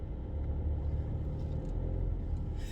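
Steady low engine rumble and road noise inside a moving car on the way to a pharmacy, continuous and fairly quiet with no talking.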